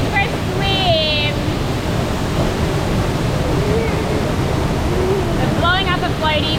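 A waterfall near rock pools on a trip to Cape York gives a steady, full roar of rushing water throughout, while children's voices call out faintly in the background.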